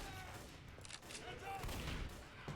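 Gunfire in the Left 4 Dead game at the Crash Site finale, heard as a faint, dense fusillade of shots that rumbles on throughout, with a voice speaking briefly over it.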